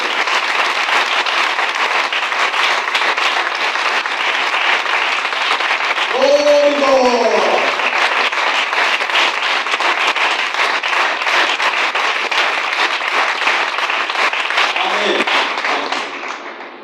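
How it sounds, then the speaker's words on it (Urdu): A church congregation applauds loudly and continuously, a steady dense wash of clapping that runs nearly the whole time, with a voice briefly rising above it midway and the applause fading at the end. "زوردار تالیاں اپنے جلال خدا کے لیے"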